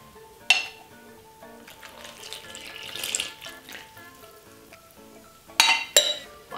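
Buttermilk and liquid coconut oil poured onto dry ingredients for vegan baked apple donut batter make a gentle trickling splash, with a sharp clink of a bowl or utensil near the start and two more near the end.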